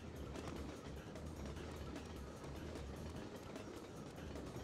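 A moving train's interior rumbles in the Colorado train ride level of the PS1 game Syphon Filter 2, a steady low roar with faint rhythmic clatter, constant and fairly quiet, with no speech.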